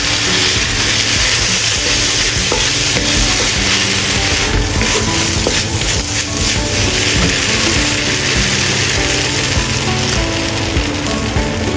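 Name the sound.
stir-frying tomato fried rice after adding soy sauce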